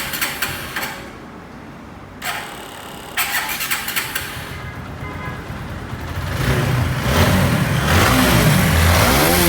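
TVS Apache RTR 4V motorcycle engine cranking with short starter bursts and pauses, then catching and settling into a steady, louder running idle close by.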